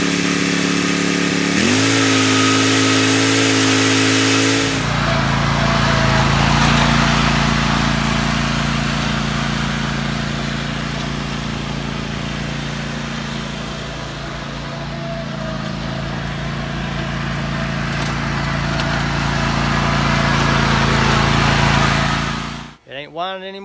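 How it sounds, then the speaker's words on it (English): A zero-turn lawnmower with a hydrostatic transmission and freshly changed transmission oil runs close by, its engine starting up and then holding a loud, steady drone that swells slightly as it drives back and forth. "I'm gonna just run it back and forth 5 times, and then we'll put it down and run it"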